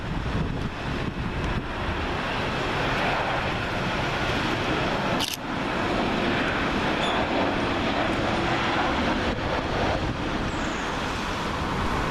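A Ryanair Boeing 737-8AS arriving at Manchester Airport on runway 23R, a steady, fairly loud jet roar mixed with wind buffeting on the microphone and one brief sharp crackle partway through.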